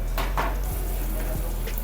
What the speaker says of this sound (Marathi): फोडणीमध्येच घालते आहे